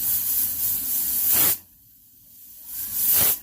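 A small pressure cooker on low gas, cooking fish roe and fish bladder, lets out two loud bursts of steam hiss from its whistle, separated by a brief quiet gap.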